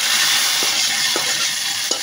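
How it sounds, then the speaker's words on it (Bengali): A curry tempered with fried onion and garlic, sizzling loudly and steadily up close, with a few soft stirring scrapes at regular intervals. "ভেজে রাখা পেঁয়াজ রসুন দিয়ে তরকারিটা আমি এখন ফোড়ন দিয়ে নেব"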